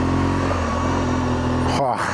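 A motorcycle engine drones steadily and loud close by, with a rising tonal whine, then cuts to a brief gust or pass near the end while a drone tracks the bike.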